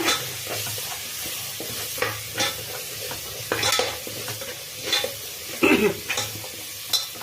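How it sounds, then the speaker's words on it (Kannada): Coriander powder and spices fry in oil in a pan for soya mint pulao, with a steady close sizzle broken by repeated scraping spoon strokes as the mixture is stirred. "ಸ್ವಲ್ಪ ಧನಿಯಾ ಪುಡಿ ಅಂದರೆ ಒಂದು ಸ್ಪೂನ್ ಅದನ್ನು ಹಾಕ್ಕೊಂಡಿದ್ದನ್ನೆಲ್ಲ ಚೆಂದಾಗಿ ಎಣ್ಣೆನೆಲ್ಲ ಫ್ರೈ ಮಾಡ್ಕೊಳ್ಳೋಣ"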